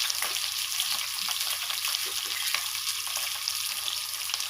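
Green chillies and onions frying in oil for aloo biryani, a steady dense sizzle with faint clinks of stirring, continuous and fairly close with no talk.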